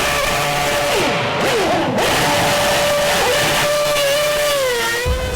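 A Formula One car spins donuts at a Miami racing festival, its high-pitched engine wailing loudly and continuously as the revs rise, dip and climb again.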